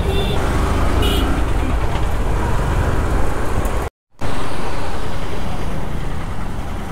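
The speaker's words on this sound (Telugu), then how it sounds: "Charminar road, Madina market. పిచ్చ ట్రాఫిక్ ఉంది" Dense traffic on Charminar Road by Madina Market in Hyderabad roars continuously up close, a wash of car, bus and truck engines with a brief dropout midway.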